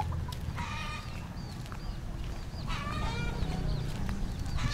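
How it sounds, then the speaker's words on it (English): Many roosters and chickens on a rooster farm in northern Thailand, with repeated clucks and crowing calls from several birds at varying distances over a steady rumbling outdoor background. "A rooster farm. It's a rooster farm."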